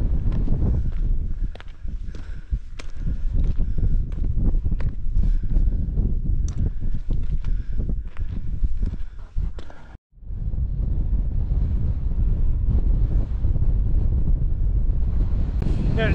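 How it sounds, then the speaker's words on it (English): Strong gusting wind buffets the microphone high on the exposed Sharp Edge ridge of Blencathra in the Lake District, a loud continuous roar with sharp rustles and a brief drop in the middle before the blast resumes. "Yeah, it's fairly windy up here."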